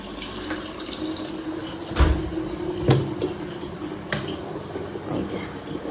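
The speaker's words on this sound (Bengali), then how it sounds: "জলের বোতলগুলো ভরতে দিলাম সব খালি" Empty water bottles are filled with water, giving a steady close running-water rush with a few sharp knocks and clunks scattered through it.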